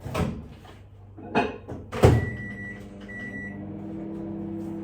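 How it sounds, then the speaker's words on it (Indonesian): A microwave oven heats milk in a home kitchen. Several clunks from its door and buttons come first, then a beep, and a steady low hum follows, with no speech. "Tunggu saya panaskan ini susu dulu di microwave."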